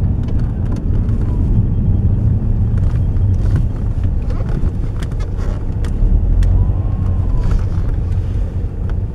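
A 2006 Saab 9-3 1.9 TiD diesel sedan on the move: steady, loud low engine drone with road rumble and wind buffeting throughout, no talk.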